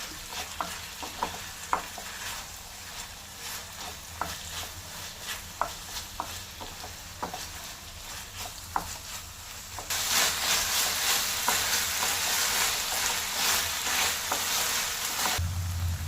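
Chicken chop suey being stirred in a pan, with light, irregular utensil taps and scrapes over a gentle sizzle, then a sudden loud, steady surge of hissing sizzle that continues to the end.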